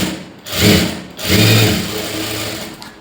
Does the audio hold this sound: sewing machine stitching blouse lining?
yes